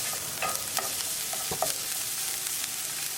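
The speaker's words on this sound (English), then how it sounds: "Add onion. Mix it well. Keep it moving and keep cooking." Onion frying in an Indian tadka for corn masala, a steady close sizzle with a few stirring scrapes of a spoon in the pan, no speech.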